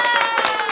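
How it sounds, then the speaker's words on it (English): A brief burst of hand clapping from a small group aboard a cruise ship, quick and uneven claps running together. "We'll give a little applause for Macrina being"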